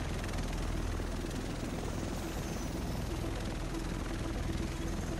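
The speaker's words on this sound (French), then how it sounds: "Très beau hélicoptère." In the video game Tom Clancy's The Division on PC, a helicopter carrying the rest of the team gives off a steady, droning rotor thrum that fills the whole stretch, loud and unbroken.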